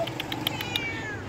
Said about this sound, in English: Oh, this kitty came back.